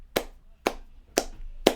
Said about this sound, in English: Good clap for you.